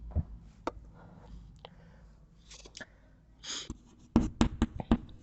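Chalk or pen writes a definition on a board during a maths lecture, scratchy strokes and sharp taps clustering toward the end, close and fairly quiet, with no speech.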